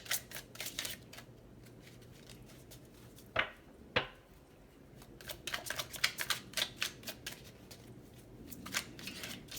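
Tarot-style reading cards being drawn and shuffled nearby, a run of quick crisp papery flicks and riffles, with a pair of sharper card snaps midway, then more rapid shuffling; no one talks.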